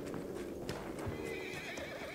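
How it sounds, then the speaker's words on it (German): A horse whinnies with a wavering neigh near the end, following clip-clopping hooves, inside the game Battlefield 1 amid a busy, noisy battlefield background. "Pferdchen."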